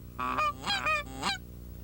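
Canada geese honk in three quick, loud, nasal bursts close by over a cornfield, mixed with hunters blowing goose calls, the calls and real birds blending into one honking sequence with no talk.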